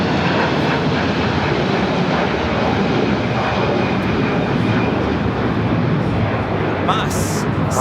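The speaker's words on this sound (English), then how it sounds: "Mas 6811 taking off to Guadalajara, Jalisco on the A330-300 converted freighter" An Airbus A330-300 converted freighter jet takes off at Los Angeles airport, its engines a loud continuous broadband roar that holds steady throughout, with a voice speaking over it.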